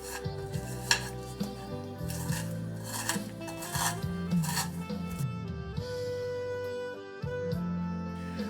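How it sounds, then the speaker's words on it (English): Chopped onion mashed with a pinch of salt in a curry pot for Goan fish curry, giving a steady close scraping and rubbing of spatula against metal, with a few brief clinks and continuous low background music. "Now with the help of a spatula or your bare hands, just try to mash the onions."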